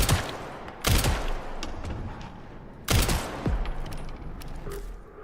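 Gunfire in a video game: two loud sharp bursts of shots roughly two seconds apart, close, with lingering rumble between them and no talk.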